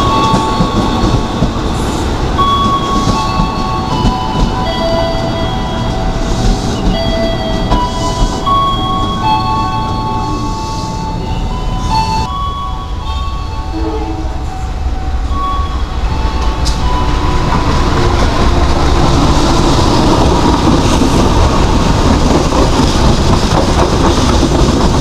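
KRL commuter train running through a station in Indonesia, a steady loud rumble of wheels and motors with rail clatter and brief squeals, continuous throughout.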